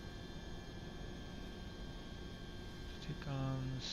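Steady engine drone of an airplane taxiing in Microsoft Flight Simulator 2024, a constant hum with a few short tonal beeps near the end.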